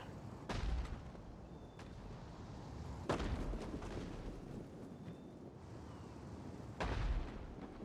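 Siege artillery firing at archers during a Total War: Rome 2 battle, three distant booming shots spaced a few seconds apart over a low, rumbling battlefield din.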